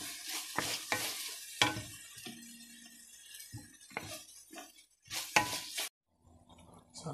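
Spicy chicken and vegetables frying in a pan while being stirred, with scraping and clinking strokes over a light sizzle, brief pauses between bursts, no talking.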